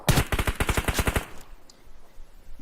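Rapid automatic gunfire in a PUBG Mobile match, a dense burst of about a dozen loud shots that cuts off sharply, leaving a quieter game backdrop with a faint distant pop.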